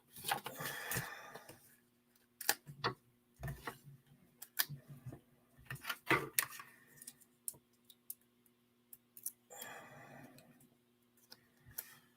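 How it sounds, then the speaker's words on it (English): Soft, scattered snips and clicks of scissors cutting paper, several quick cuts with pauses between, close and quiet. "it's just as easy to snip it off with some scissors"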